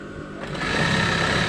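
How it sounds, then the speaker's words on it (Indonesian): A sewing machine stitching trousers while they are being altered: the motor starts up after a brief quiet moment and settles into a fast, steady whirring hum, close and loud. "Nah, seperti ini kira-kira udah rata, kita jahit."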